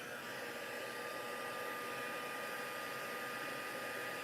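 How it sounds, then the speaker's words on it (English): An embossing heat gun blows with a steady, unbroken whooshing hum, fairly quiet and constant throughout. "And I gotta do the embossing gun for a minute."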